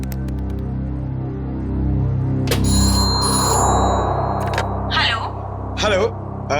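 An outgoing telephone call rings with a bright, sustained electronic ringing tone lasting about two seconds over a low rumbling bed, followed by short bursts of voices.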